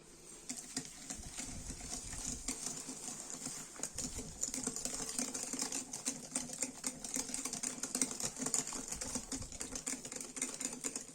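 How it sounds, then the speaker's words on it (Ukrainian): Cake batter is stirred in a bowl after sugar and a packet of vanilla sugar are added, making quiet, rapid tapping and scraping that goes on steadily with no voices. "Ось так трішки перемішую."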